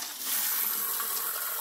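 Water sprays steadily from a Hydro Cleanse bidet, a continuous bright hiss of flowing water that starts after a brief moment and holds close and fairly loud throughout.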